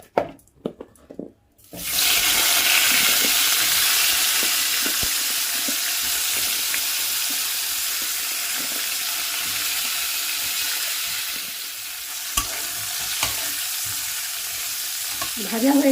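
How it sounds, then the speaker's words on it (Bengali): Jackfruit pieces frying in mustard oil in a pan, a loud steady sizzle starting after a brief quiet moment and continuing with faint stirring clinks. "এবার আমি বাকি এঁচোড়টাও ভেজে নেব।"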